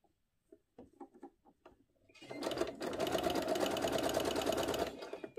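A sewing machine stitches a trouser hem with a twin needle, running steadily and loudly for about three seconds after a few soft clicks and taps.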